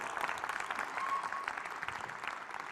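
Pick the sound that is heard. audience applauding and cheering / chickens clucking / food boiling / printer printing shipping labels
audience applauding and cheering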